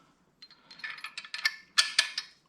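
Ratcheting clicks from a hand wrench tightening the long front bolt on a motorcycle floorboard extension, a quick irregular burst of metallic clicks building to sharper snaps near the end, close and alone.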